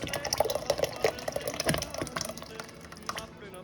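Water swirled around inside an emptied tomato sauce can, producing close, irregular sloshing and clattering metallic bursts that fade toward the end, with a voice speaking faintly.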